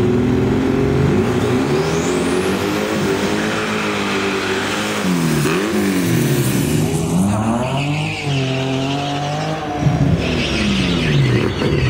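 A VW Beetle races a Porsche, loud engines revving hard through rising and falling gear sweeps, with tire squeal and skidding throughout, close and continuous.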